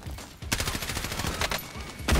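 Rapid gunfire bursts in the video game Warzone, several loud volleys of shots spread across the moment with a heavier blast at the end, no talking over them.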